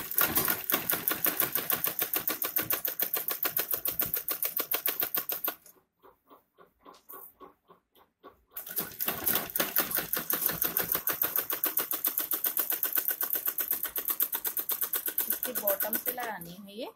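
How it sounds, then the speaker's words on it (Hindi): A sewing machine stitches a puff sleeve, running in rapid, steady bursts of even mechanical clatter, pausing for a few seconds, then resuming in another long run. Occasional speech may sit beneath the stitching. "ऐसे हम इसके ऊपर सिलाई लगा लेंगे।"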